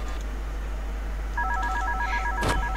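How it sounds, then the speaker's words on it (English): A telephone rings in the horror video game One Night at Flumpty's, giving a few sharp electronic trilling bursts that enter partway through over a low steady hum, ending with a brief noisy thump; no voices. "Oh, we got a phone call."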